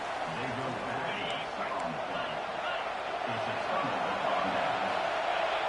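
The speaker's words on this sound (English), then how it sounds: "They're on defense, this loud crowd." A loud stadium crowd roars steadily in a college football video game while a commentator talks over it throughout.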